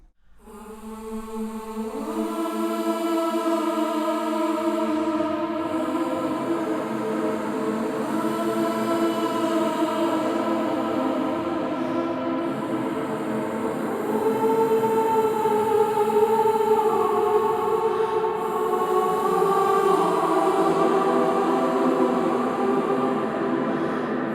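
Sustained MIDI choir voices hold long chords that swell and shift slowly, wrapped in a bright, shimmering Valhalla Shimmer reverb wash that lingers throughout.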